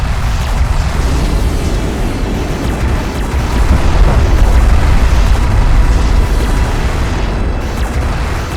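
Deep rumbling booms of a strike craft being destroyed in the Deserts of Kharak real-time strategy game, loud and dense, rolling continuously with a swell in the middle amid battle noise.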